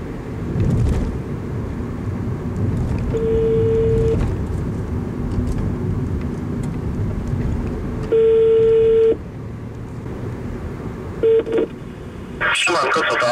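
A VW Up's Bluetooth phone link places a call: several steady electronic ringing tones, each about a second long and separated by pauses, play inside the car over a low cabin hum. A short burst of sound follows at the end.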